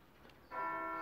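A church bell strikes once in the background, a faint sustained ringing tone that begins halfway through and hangs on.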